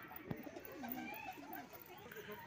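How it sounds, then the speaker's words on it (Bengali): Pigeons in a loft give soft, rolling coos that rise and fall near the listener, with a brief knock early on and quiet room noise throughout. "এখানে পায়রাগুলো আছে"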